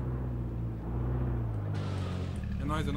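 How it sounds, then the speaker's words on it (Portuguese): A car engine drones and rumbles steadily nearby in the video game H1Z1, partly under loud talk from players. "eu tô ouvindo o carro"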